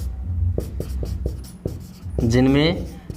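A teacher writes during a classroom lesson: a series of sharp, evenly spaced taps and strokes sounds close by, and a voice speaks near the end.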